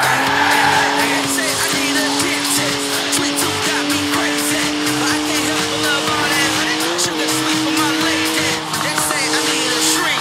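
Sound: BMW 1M drifting with tire squeal in Forza Horizon 4 video game

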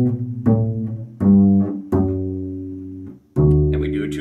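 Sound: bass playing middle part of Frère Jacques

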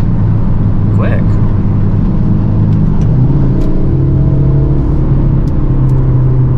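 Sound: 2022 Hyundai Elantra N engine accelerating

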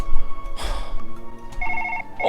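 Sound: telephone ringing in the video game Surgeon Simulator 2013

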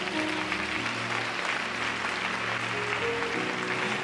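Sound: applause in church congregation

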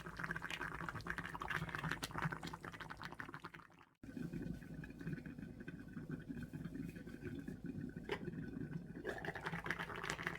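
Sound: liquid boiling in a pot

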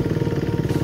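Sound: motorcycle engine running in third gear

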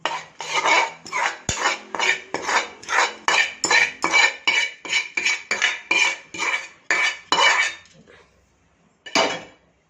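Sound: stirring flour with ghee for moong dal laddu

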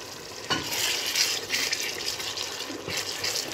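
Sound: stirring vegetable soup in a pot

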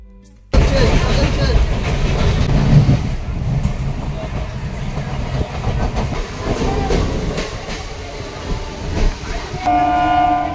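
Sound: train running, passenger train

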